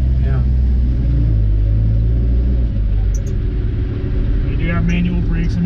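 A restored 1940 Chevrolet pickup with a 216 engine runs on a test drive, a loud steady rumble from inside the cab with a few faint squeaks.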